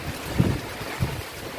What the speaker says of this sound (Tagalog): medyo lumakas na naman po yung ulan at hangin oh